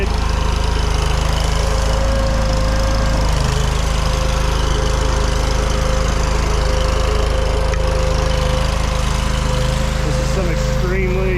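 A Chinese mini skid steer's small engine runs steadily and loud throughout, a constant drone with a slight change in pitch near the end while the machine works hard clay ground for a gravel driveway.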